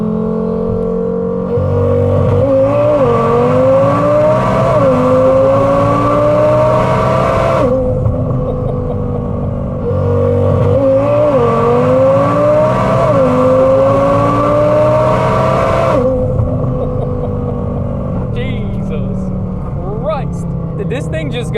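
A 1400 hp Audi TT RS running all boost with no nitrous pulls hard through the gears from inside the car, loud engine revving climbing in two long surges, then easing off.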